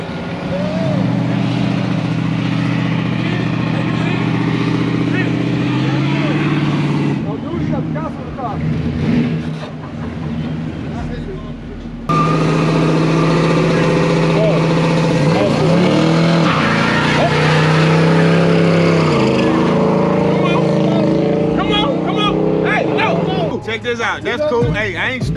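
A B-body car revving hard at a car show in LaVergne, Tennessee, loud sustained engine roar with rising revs and a brief drop midway, people talking and shouting over it.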